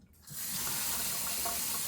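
Hot tap water runs steadily into a kitchen sink while vegetables are rinsed, a continuous splashing gush that starts abruptly and stays loud and close.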